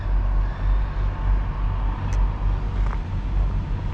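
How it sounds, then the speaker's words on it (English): A car goes by on a road at a speed run and curb testing session, its steady low engine and tyre rumble loud and close throughout, with no voices. "See, here comes a car right now"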